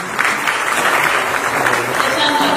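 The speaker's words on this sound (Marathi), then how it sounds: "एकदा जोरदार टाळ्या त्याची।" At a Marathi movie music and trailer launch, an audience gives a burst of loud, sustained applause, dense clapping filling the room throughout.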